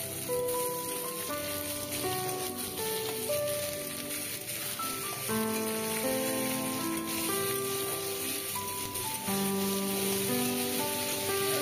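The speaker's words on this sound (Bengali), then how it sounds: "তারপরে তেলের ওপরে আলুগুলো দিয়ে দিলাম" Potatoes frying in hot oil with black mustard seeds give a steady, dense sizzle that runs unbroken and fairly close throughout, with a faint tonal hum underneath and no talking.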